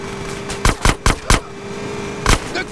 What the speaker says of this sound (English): Shoot out the gate.